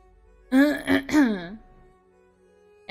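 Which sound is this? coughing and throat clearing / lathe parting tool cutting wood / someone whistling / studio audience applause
coughing and throat clearing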